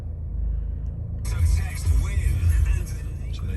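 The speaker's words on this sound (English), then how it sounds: "And we'll just start the car." A 2013 Ford S-Max 2.2 TDCi diesel engine cranks and catches, then settles into a steady low idle rumble heard from close by.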